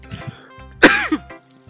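A sudden throat-clearing cough from a gamer who just choked on a sip of water, one loud harsh burst with a rasping tail, close to the mic and alone.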